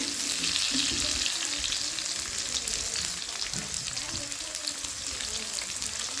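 Potatoes topped with salt and turmeric fry in hot oil, giving a steady, dense sizzle with occasional stirring scrapes close by.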